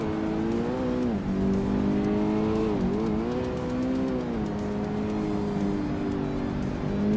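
Mosler, Spyker and Mazda race cars lapping a track with tight corners and short straights, engines droning loud and steady throughout, pitch rising and dipping as the cars brake and accelerate.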